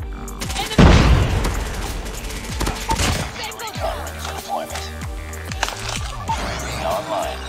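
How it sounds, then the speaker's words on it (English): Frag grenade blast in Call of Duty Mobile night mode: a loud, close boom early on, followed by bursts of gunfire and scattered pops with a voice talking over the battle. "Grenade out."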